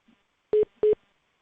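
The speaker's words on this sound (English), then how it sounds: "I hear a beep beep, like somebody's getting a phone call." Two short electronic beeps in quick succession, clear and fairly loud, like a phone tone, with silence around them.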